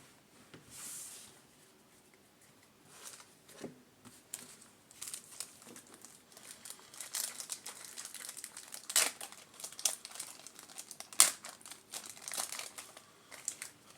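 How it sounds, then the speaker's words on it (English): Foil wrappers on 1991 Score football card packs crinkle and tear as they are opened by hand, close-up bursts of crackling and rustling separated by quiet pauses. "Nice and easy to open these packs."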